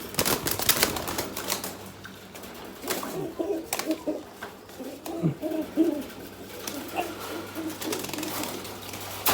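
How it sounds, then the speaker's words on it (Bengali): Pigeons coo in a cage inside a pigeon loft, giving a few soft, low, rounded calls over steady rustling and occasional clatter, with no talking. "আমরা আরেকটা বাচ্চা কবুতর ধরি এই খাঁচার থেকে"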